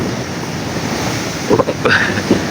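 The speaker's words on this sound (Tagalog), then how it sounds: "lakas ng alon dyan" Strong waves surging over the flooded Dipolog boulevard during a storm, a loud continuous roar of surf and wind buffeting the microphone, with a few brief louder splashes near the end.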